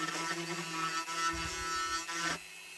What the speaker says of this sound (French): on va réutiliser la fameuse Dremel pour percer des trous dans les bouteilles